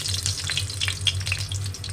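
Bay leaf, cardamom and other whole spices sizzle steadily in hot oil in a pan, a close, continuous crackling fry with small pops scattered throughout.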